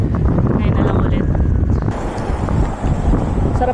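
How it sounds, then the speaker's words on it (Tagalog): Outdoor breeze rushing steadily across a microphone on an overcast, tree-lined road, a constant low buffeting roar with a few faint passing vehicles in the background. "Sarap ng hangin dito."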